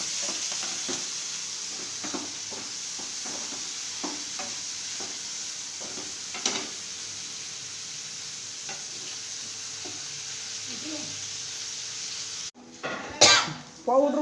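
Tomatoes fry in a tempering in a pan, a low steady sizzle with soft intermittent scrapes of a stirring spoon, faint voices in the background, and a sharper clatter of utensils near the end.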